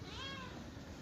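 A street cat gives a single drawn-out meow close by, clear and fairly loud over a busy background.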